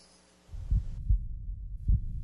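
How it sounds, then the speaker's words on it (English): A person's heartbeat thumps low and close, three deep pulses in an even rhythm after a quiet start, with no voices. "This is the actual sound of my heartbeat."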